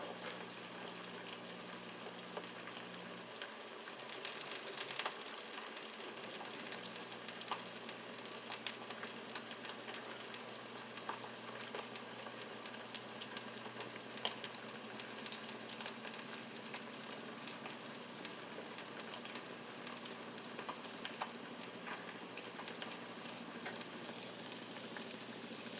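Butter eggs fry quietly in a pan, a soft continuous sizzle and crackle that holds steady throughout with no talking.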